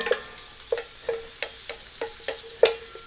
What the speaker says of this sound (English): I want to toss in that pasta